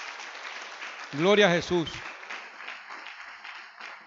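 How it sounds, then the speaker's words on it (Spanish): Congregation applause during a Spanish-language church sermon, a soft spread of clapping running beneath a voice that speaks briefly over it. "Dele un aplauso al que es indispensable."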